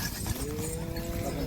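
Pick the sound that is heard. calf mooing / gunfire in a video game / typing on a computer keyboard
calf mooing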